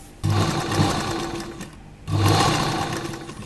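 Sewing machine stitching a dress, running in two fast, steady bursts of whirring, clattering needle strokes separated by a brief pause, close and loud.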